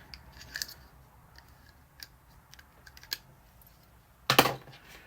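Scissors and a pen pouch handled on a desk: scattered soft clicks and small taps, then a brief, sharper metallic snip-and-rustle burst near the end, close and quiet with no talking.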